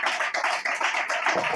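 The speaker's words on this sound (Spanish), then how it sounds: "Denle ese aplauso al Señor." Church congregation applauding at a worship service, a dense and steady wash of many hands clapping at close range with no talk over it.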